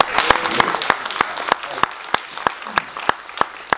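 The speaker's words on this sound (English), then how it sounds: "So clap for that, too." Audience applause at a live Q&A on a summer festival cruise, with the crowd's clapping falling into a sharp, regular rhythmic beat of loud claps, about three per second, over a general crowd wash.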